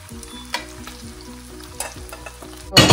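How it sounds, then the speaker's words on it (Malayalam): Cornflour-coated beef, boiled with salt and turmeric, frying in hot oil for Chinese-style chili beef, a continuous close sizzle with sharp clatters of stirring and a loud burst of spattering at the end, with no talk. "മാരിനേറ്റ് ചെയ്ത് വെച്ചില്ലേ, മാരിനേറ്റ് മീൻസ് ജസ്റ്റ് ഉപ്പും മഞ്ഞപ്പൊടി ഇട്ട് വേവിച്ച ബീഫിൽ കോൺഫ്ലവർ ഇട്ട് വെച്ചേക്കുന്നതാണ്. അത് നമുക്കിനകത്തിൽ ഇനി വറുത്തെടുക്കണം."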